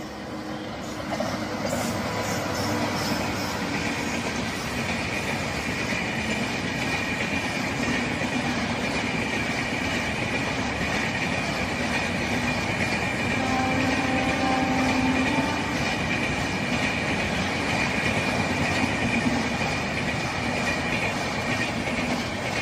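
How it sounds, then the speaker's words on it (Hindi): An express train runs steadily along the rails, a continuous loud rumble with rail clatter and faint wheel squeal lasting throughout, close by and with no talk over it. "वाह यू एक्सप्रेस चली"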